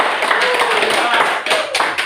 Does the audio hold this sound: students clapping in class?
yes